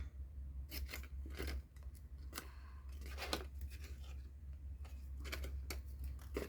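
Scissors snip through cardstock along a narrow score line for a paper treat box, a rapid series of crisp close cuts repeated in short bursts over a steady low hum.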